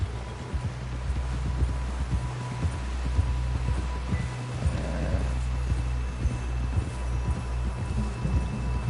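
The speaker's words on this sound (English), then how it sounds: "Someone help John down off this horse." A horse gallops with a rider in a video game, a steady rapid hoof rhythm running throughout at moderate loudness, with rustling and a low rumbling bed beneath.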